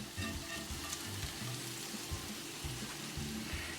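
Hamburger patties fry on low heat in a pan, a soft continuous sizzle and crackle of bubbling fat with small pops, fairly quiet and close, no voices.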